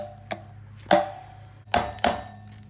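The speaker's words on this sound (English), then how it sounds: "so I need to tap this side in more" Tapping a wheel bearing into the rear hub of a Hawk 250 motorcycle: four metallic taps, a faint one followed by three sharper clinks, with a steady low hum underneath.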